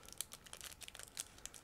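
A sealed plastic bag holding a clear parts frame and decals from a 1/35 model kit is torn open, giving close, quiet bursts of crinkling and ripping plastic with no talking over it.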